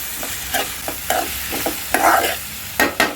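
Prawn roast being stirred in a pan after salting, loud close scraping strokes in an uneven rhythm over a constant frying sizzle.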